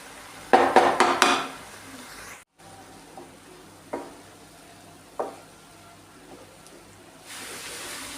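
Food stirred in a cooking pan for a Kerala lunch dish: a quick burst of scraping spoon strokes, then a brief pause and a few isolated clinks over a faint sizzle, close and without speech.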